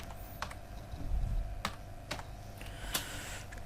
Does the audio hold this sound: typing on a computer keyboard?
yes